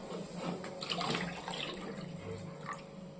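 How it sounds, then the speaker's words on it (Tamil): Water pours and splashes softly into a cooking pot of koi fish curry, a continuous quiet trickling with small splashy bursts. "இப்போ நம்ம தேவையான அளவுக்கு தண்ணி சேர்க்க போகிறோம்"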